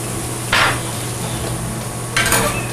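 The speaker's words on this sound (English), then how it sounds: "So once they get soft, we mix them together." Peppers and onions softened in a pan are stirred with a utensil, giving two short scraping strokes over a constant background hum, with no talking.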